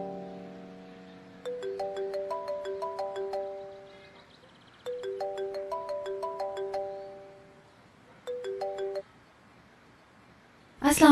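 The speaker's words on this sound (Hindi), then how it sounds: "आपका फोन बज रहा है।" A mobile phone ringtone plays a bright, chiming melodic phrase three times with pauses between, loud and close, and a voice cuts in at the very end.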